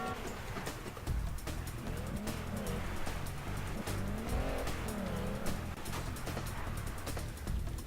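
A car engine roars continuously in the video game Wheelman, tires squealing and skidding through turns during a chase, loud and busy, punctuated by sharp clatters and impacts.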